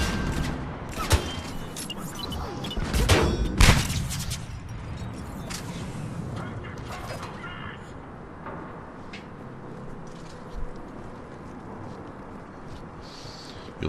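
Gunfire in Mass Effect 3 multiplayer, sharp bursts and single cracks, loudest early with a heavy cluster of shots, then sparser pops under ongoing talk.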